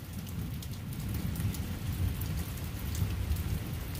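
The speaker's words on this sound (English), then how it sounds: "It's just a constant rolling thunder is what it is." Steady rain falls throughout, with a low, constant rumble of thunder rolling underneath from a thunderstorm with lightning high in the sky, no voices present.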